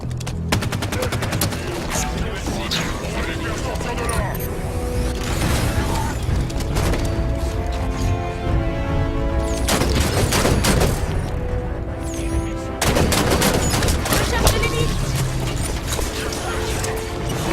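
Dense video game gunfire from Halo fills the scene, with rapid automatic bursts, booms and crashes rattling on loudly and continuously under a busy battle soundscape.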